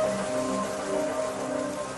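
Steady rain falls in a forest during Indian monsoon floods, a dense continuous hiss of drops on leaves and ground with no voices.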